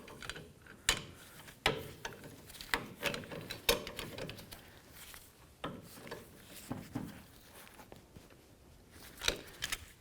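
Pliers snugging a jam nut on the inner tie rod of a 2007-or-later Toyota Tundra, irregular close metallic clicks, scrapes and taps from tool handling, fairly quiet with no talk.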